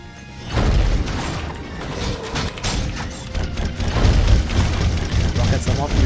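Rocket blasts in the Secrets of Grindea boss fight, a string of booming, crashing impacts that come in quick bursts over game noise, with speech-like voices mixed in.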